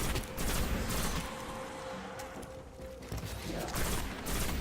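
Gunfire in the video game Destiny, a dense steady fusillade of rapid shots with game effects layered over it. It runs loud and continuous through the whole stretch.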